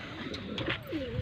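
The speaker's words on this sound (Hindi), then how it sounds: "आप देख रहे हैं ये कबूतर एक ही वैरायटी के और सब कबूतर।" Pigeons of one variety coo softly close by, a brief low warbling call rising and falling once over faint background noise.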